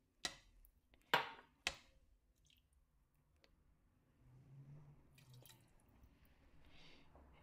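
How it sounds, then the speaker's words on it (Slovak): Water poured into a pot of corn kernels while making esquites: a few sharp splashing pours in quick succession, then faint trickling and low bubbling sounds, close and fairly quiet. "A zalejeme si to vodou."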